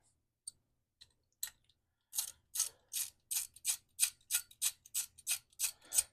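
A ratchet wrench tightens 5 mm brake bolts on a Kawasaki KLX110 fitted with a KX65 brake conversion, giving faint ticks at first and then a steady run of crisp, close clicks.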